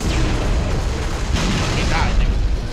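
A deep, rumbling grenade blast in the shooter game Halo: Reach, a loud boom with a rolling roar that fills the moment amid continuous game noise.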